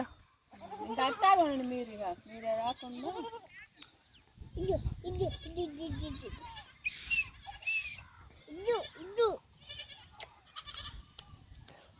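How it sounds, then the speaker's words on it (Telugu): Goats bleating outdoors near a hillside, several wavering calls from more than one animal close by, with people talking between them. "మేకలు వస్తున్నాయి"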